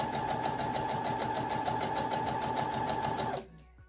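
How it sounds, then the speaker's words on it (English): A sewing machine runs a line of straight stitch with a fast, even mechanical chatter of needle strokes, close and steady for over three seconds before it stops abruptly. "rethreaded your machine and changed the bobbin to do a line of straight stitch"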